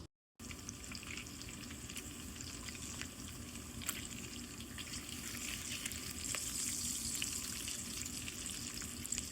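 Bacon fries in a pan with a steady, close sizzle and crackle that holds evenly after a brief silent start, with no voices.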